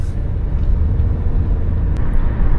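A taxi car drives along the road, a steady low engine and tyre rumble running throughout with no talk.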